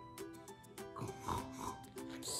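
A voice imitates a pig's oink as part of a toy play session with a Peppa Pig figure, giving a couple of quiet nasal grunting oinks with short squeaky bursts.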